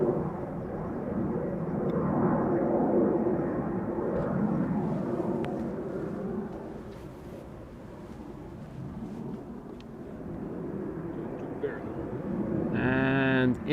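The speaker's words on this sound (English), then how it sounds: "Outbound Embraer." An Embraer jet departs Amsterdam Schiphol, its rumbling engine roar swelling, fading slightly midway, then rising again at a distance, with a brief tonal beep right at the end.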